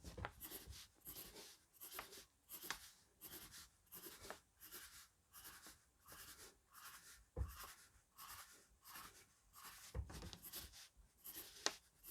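A pencil sketches ellipses on paper in a steady run of quiet, rhythmic scratching strokes, close and continuous, with no talk.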